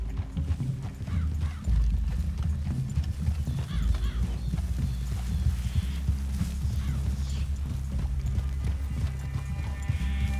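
Horses walking with hooves clip-clopping in the Red Dead Redemption 2 game world, steady and fairly close, with a brief whinny and low rumbling ambience underneath.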